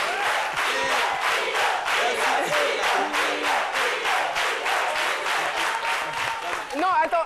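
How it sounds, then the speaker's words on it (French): A TV studio audience applauds with steady rhythmic clapping and some cheering, loud and sustained, while voices talk over it near the end. "qu'est-ce que vous applaudissez au jeu?"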